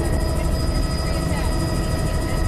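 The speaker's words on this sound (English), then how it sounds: "we can hear the helicopter coming up again" A helicopter draws near with a loud, constant rotor roar and a thin whine over it. Regular blade pulsing runs through the whole stretch, and a voice may sit beneath the noise.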